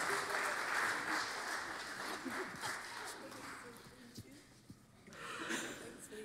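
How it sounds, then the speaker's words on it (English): A church congregation at a parish Sunday worship service applauds its volunteers, a broad patter of clapping that thins midway and swells again, with a voice speaking over it. "A round of applause to our volunteers"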